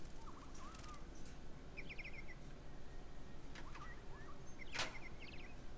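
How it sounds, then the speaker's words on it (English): Faint synthetic bird chirps sound in short bursts over a steady background hiss in the Detroit: Become Human video game, with a few brief tweets scattered across the stretch. "Are they android birds?"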